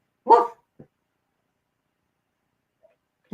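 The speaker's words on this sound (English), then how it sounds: "My dogs do bark" A dog gives a single loud bark up close, followed by a faint short yip and a long stretch of silence, with another brief bark just starting at the end.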